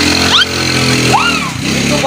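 A Yamaha Mio motorcycle engine idles and revs loudly nearby, a steady buzzing drone that rises briefly twice, with voices calling out over it.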